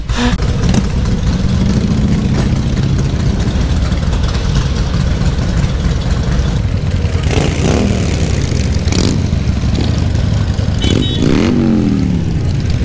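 A Harley-Davidson motorcycle engine runs loud and steady throughout, a deep low rumble with a few brief revs near the end as the bike pulls away to refuel.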